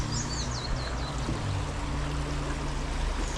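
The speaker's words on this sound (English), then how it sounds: "Nice little river to start with. This is the river Glendoramakin." The River Glendoramakin in the Lake District flows steadily, a close, continuous rush of water with a low hum underneath and a few brief bird chirps at the start.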